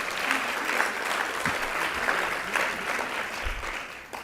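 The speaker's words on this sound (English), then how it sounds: "let's give a round of applause to our two publishers, Mr. Bogle and Sister Sonny" At an awards gala in Baltimore, an audience applauds its two publishers with sustained, full-room clapping that stays even throughout, and a faint voice or two sounds underneath.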